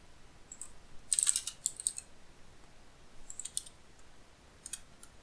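Sparse bursts of computer keyboard typing, quiet and close, with a cluster of quick clicks near the start and a couple of shorter runs later, over a faint background hiss.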